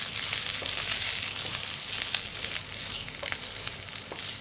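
Spices tipped into a hot pan of chicken mince and peas for chicken keema sizzle steadily and close, a dense continuous frying hiss with faint clicks of stirring.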